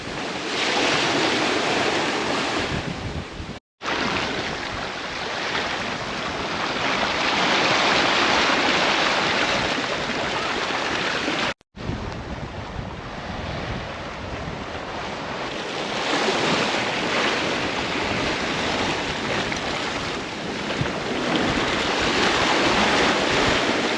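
A sailboat surging on ocean waves during a solo passage to Mindelo, Cape Verde, with loud continuous rushing water and wind noise on the microphone, broken by two brief dropouts.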